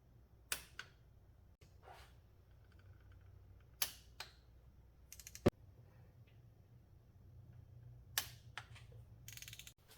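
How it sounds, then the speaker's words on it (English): A torque wrench tightening spark plugs on a 2016 Audi A7 Quattro gives a few sharp, quiet clicks spaced out over a faint, hushed background. "Torque the spark plugs to 22 foot-pounds."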